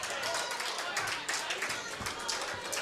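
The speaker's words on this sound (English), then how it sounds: "the crowd's going to start clapping, and there they go" Crowd clapping at a men's four-wall handball world championship singles final, a dense steady patter of many hands filling the whole moment, with a voice talking over it.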